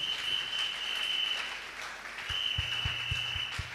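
A church congregation claps loudly through a worship service, a dense, steady roar of applause that runs without pause and dips slightly mid-way before swelling again, with a thin sustained tone and low thumps beneath.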